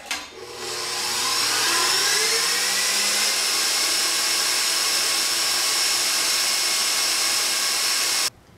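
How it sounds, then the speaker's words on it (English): An electric mixer whips egg whites to stiff peaks, spinning up quickly to a loud, steady high whine that holds for about eight seconds and then cuts off abruptly. "Put them in your mixer and let her rip"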